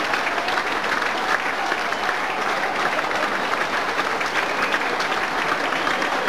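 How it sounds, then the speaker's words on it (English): A large crowd at a 1997/98 Plymouth Argyle versus Walsall football match applauds the team after a 2–1 win. The steady, dense clapping and cheering continues without a break throughout. "Mick Jones and his team get the applause they so richly deserve"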